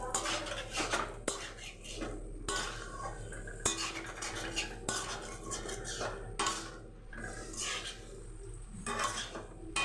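Yogurt being stirred and sautéed into a vegetarian potato and pointed gourd curry, with a spoon scraping and clinking against the pan in repeated close strokes and a soft sizzle underneath.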